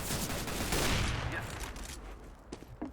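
A burst of rapid gunfire from Counter-Strike: Global Offensive fills the first seconds, then fades into scattered smaller shots and thuds.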